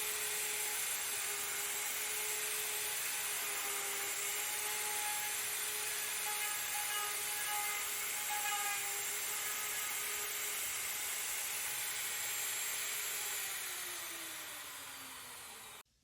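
A router cuts mortises in wooden bench legs, guided by a template, giving a steady, close, high-pitched motor whine that holds level and winds down at the very end.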